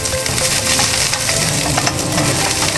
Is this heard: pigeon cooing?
no